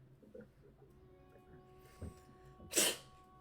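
A single sharp sneeze bursts out near the end, loud and close, after a quiet stretch with faint background hum.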